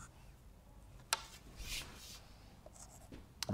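A pen scratches across a page of maths working in a quiet room, soft continuous scribbling broken by a few sharp taps and strokes, close and faint with no talking.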